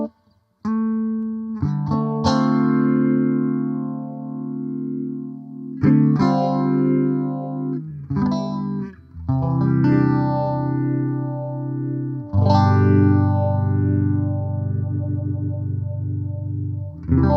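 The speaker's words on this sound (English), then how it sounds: "That phaser sounds really nice." Electric guitar through an Amplitube 5 phaser pedal effect, with chords and single notes ringing out under a sweeping, swirling phase modulation, loud and continuous with some distortion and echo.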